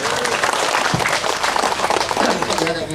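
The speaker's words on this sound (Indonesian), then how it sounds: "Ya Bu ya, tepuk tangan ya." An audience at a regency official's bridge inauguration in Central Lampung claps in a steady, dense patter of applause for a few seconds while a voice talks over it.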